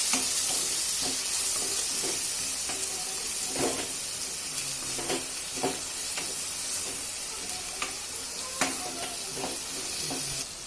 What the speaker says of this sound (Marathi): आता व्यवस्थित असं मिक्स करून घ्यायचं